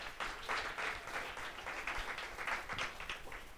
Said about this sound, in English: let's all give Uber a round of applause for leading innovation in Queens